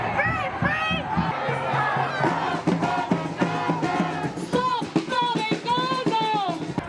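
Large crowd at a street protest against Israeli attacks on Gaza, many voices shouting and chanting together in a loud, continuous roar with rhythmic surges.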